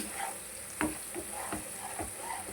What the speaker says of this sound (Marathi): मसाला चांगला फ्राय करून घ्यायचा आहे तेलामध्ये